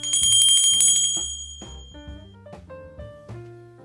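Santa rings a handbell in a string of clear, near strikes, each chime ringing out and overlapping the next, with no voices.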